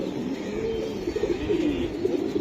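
Racing pigeons in a loft give soft, low, rolling coos continuously, close and moderately loud, with no talking.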